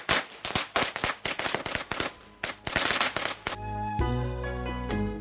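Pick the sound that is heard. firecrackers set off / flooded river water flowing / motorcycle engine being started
firecrackers set off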